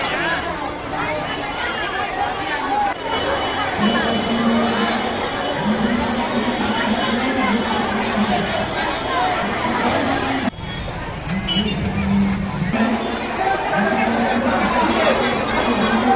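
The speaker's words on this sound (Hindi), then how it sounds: "दरभंगा जिला के विभिन्न पूजा पंडाल में अष्टमी तिथि के भक्तक काफी भीड़ उमड़ पड़ल।" Dense crowd of devotees at a Durga puja pandal during Ashtami, a steady babble of many voices with constant chatter and movement filling the space.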